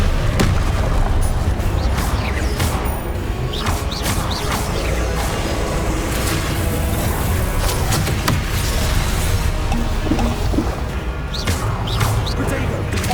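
Confringo blasting spell explosions in the Hogwarts Legacy video game, repeated booms and crashes in a busy, loud battle with constant effects, and voices speaking over the action.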